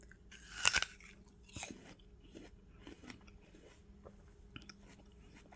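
Dog biting into and chewing an apple, one sharp crunch followed by a second bite and then quieter, scattered chewing, close but faint, with no talking.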